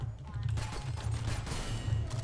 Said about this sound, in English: looks like there's a mortar on me.